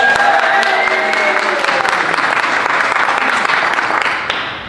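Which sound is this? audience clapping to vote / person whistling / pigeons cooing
audience clapping to vote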